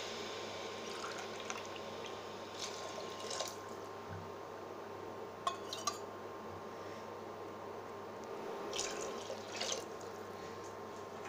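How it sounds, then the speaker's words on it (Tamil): Water is poured into a pot on the stove to make a semolina (rava) breakfast: a faint, steady stream and trickle with small splashes, and no voices. "அதுக்கு 3 கிளாஸ் தண்ணி சேர்க்கணும்"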